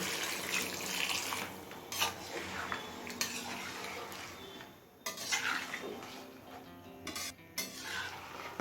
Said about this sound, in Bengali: এখন প্রয়োজন মতো গরম জল দিয়ে দিচ্ছি